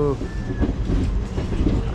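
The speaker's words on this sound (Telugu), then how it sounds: "మన మనుగురు ఎక్స్ప్రెస్ అయితే చిన్నగా బయటకు వెళ్తుంది స్టేషన్ నుంచి" The Manuguru SF Express rolling slowly out of a station, a close, low steady rumble of rails and wheels.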